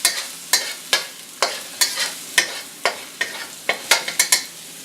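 A spatula stirring aromatics that fry in hot oil in a pan, with repeated scraping strokes at a quick, regular rhythm over a continuous sizzle, close and clear.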